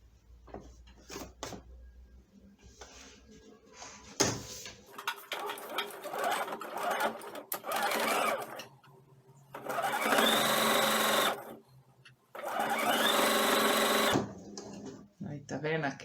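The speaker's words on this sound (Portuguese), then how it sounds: "Esse lado reto que a gente vai costurar aqui na orelha." A sewing machine stitches the straight edge of a fabric elephant pillow's ear in two loud, steady runs, separated by brief handling clicks, while someone talks between the bursts.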